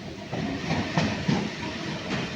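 A train rolls into a station with a steady broadband rumble and rattle, faint rhythmic clicks of the wheels and a light hiss, close and continuous with no talk.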